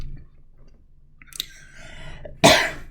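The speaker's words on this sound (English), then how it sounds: "had a cough" After a brief throat sound, one sharp, close cough breaks out near the end of an otherwise quiet moment.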